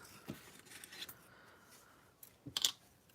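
Scissors snip through cardstock for a Stampin' Up! shaker card in a few quiet, close cuts, with sharper crisp snips near the end and no talking.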